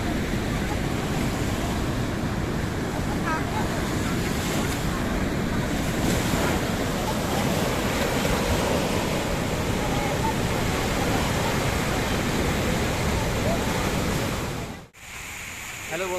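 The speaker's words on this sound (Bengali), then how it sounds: "এই দেখ কোথায় চলে আসলো ঢেউটা" Surf breaking and washing up a sandy beach at Puri on the Bay of Bengal, a steady, loud roar of waves with wind buffeting the microphone, continuous throughout before a brief dip near the end.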